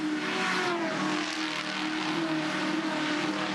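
V8 ute race cars on a Gold Coast street circuit roar past in a continuous, loud, blended engine drone with steady tonal whine and slight rise and fall, heard from trackside with no voices.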